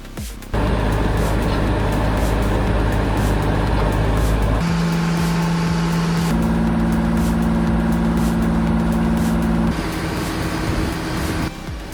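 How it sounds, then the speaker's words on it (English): An old logging machine's Detroit diesel engine runs loud and close, a steady throbbing drone that shifts pitch a couple of times as the revs change, then eases slightly near the end, with no one talking. "Listen to that Detroit diesel engine purr."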